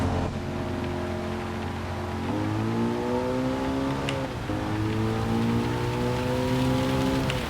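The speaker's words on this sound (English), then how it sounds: "Alright, does look heavy rain, but the question is for how long?" Heavy rain hisses over a racing car in Gran Turismo 7, beneath the loud, steady engine drone that climbs in pitch through two gear changes; no voices.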